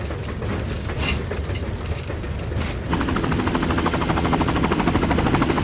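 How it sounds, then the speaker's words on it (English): A runaway train with bypassed brakes barrels along in a loud, close, continuous roar that turns into a fast, rhythmic clatter of wheels partway through. "This train is a runaway."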